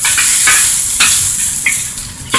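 Beef chow fun rice noodles frying and browning in a hot pan give a loud, continuous sizzle, broken by sharp scraping and clinking strokes of a spatula as they are stirred. No one speaks.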